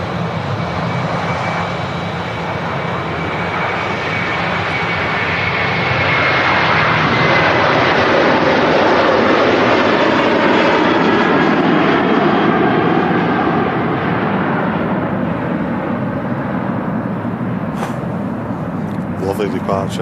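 A Thomas Cook Airbus A321 airliner taking off from Manchester Airport, a loud roaring jet engine rumble that swells and holds strong across the whole stretch, with a few voices talking over it.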